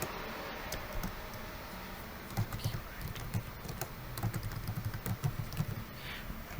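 Quiet, close computer keyboard typing during a Python programming lecture, with irregular bursts of soft key clicks and ticks that grow busier toward the end.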